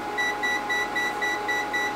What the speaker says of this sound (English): a nice feature of our VENLAB meter, it's got an overcurrent alarm